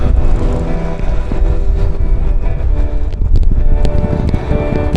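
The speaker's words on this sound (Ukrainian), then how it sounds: "Вітер такий боковий, трохи збоку задуває, тому їхати так собі" Steady, loud crosswind buffeting with a low rumbling drone throughout, gusts pushing against a moving bicycle.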